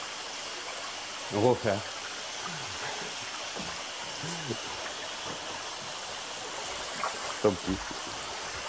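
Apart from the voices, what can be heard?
water rinsing emulsion off a screen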